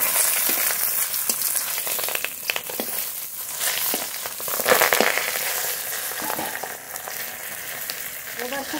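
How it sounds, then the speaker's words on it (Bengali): Koi fish paturi, wrapped in leaves, fries in a pan with a continuous close sizzle and crackle, broken by rustles and scrapes as the parcels shift. "এবার খুব ভালো করে ভেজে নেব।"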